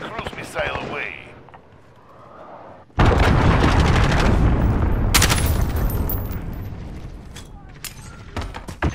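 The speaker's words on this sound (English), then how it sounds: "Allied cruise missile away." A cruise missile strike in Call of Duty: Modern Warfare lands suddenly as a loud, broad explosion after quieter game sounds and voice, then rumbles on with debris and further bangs and crackles.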